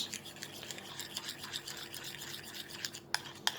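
Shampoo slime mixture with added colouring being stirred, a close, quiet run of soft wet scraping and rubbing strokes that repeat steadily, ending with two brief sharper clicks.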